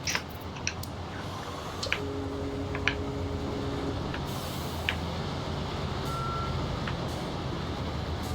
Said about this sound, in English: let's back up this truck to make the lift easier